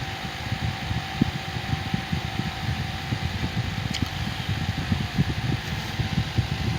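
A small USB portable table fan whirs steadily up close, with a faint buzzing hum and an uneven low fluttering rattle running throughout.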